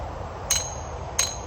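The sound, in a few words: hammer driving a log dog grab into a log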